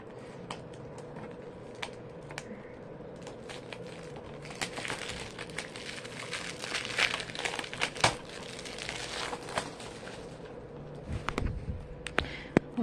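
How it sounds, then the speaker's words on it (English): Cellophane wrap crinkles and crackles as it is peeled off a sealed DVD case, with bursts of sharp rustling and small snaps growing busier in the middle and tapering off near the end. "let me get the cellophane off because it's sealed"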